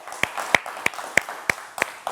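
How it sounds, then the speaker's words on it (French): Audience claps for Boris in a rhythmic, evenly spaced series of about seven sharp claps, moderately loud and close, with no talk over them. "On va encore applaudir pour Boris, s'il vous plaît."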